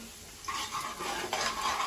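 A tempering for Maggi noodles sizzles in a pan, starting quietly, then bursting into steady crackling frying with a second surge midway, close up and with no voices.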